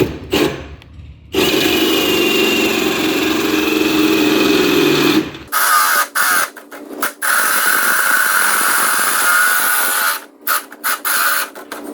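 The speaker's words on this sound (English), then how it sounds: "So now this should go ahead and notch it." A tube notcher cuts into steel roll cage tubing for a Chevy S10 drag truck, giving a steady grinding, whirring mechanical cut that runs loud and close, then breaks into short stop-start bursts with gaps toward the end.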